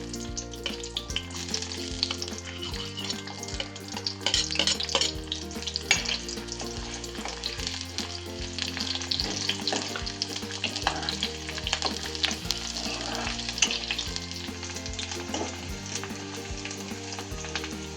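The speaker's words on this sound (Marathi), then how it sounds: "कांदा चांगला तळला." Onion frying in hot oil for a Maharashtrian eggplant and bean bhaji, a continuous bright sizzle heard under prominent melodic background music.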